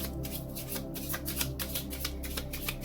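Tarot cards being shuffled continuously for about three seconds, a steady rapid riffling and flicking of card stock, close and fairly quiet, with no voices.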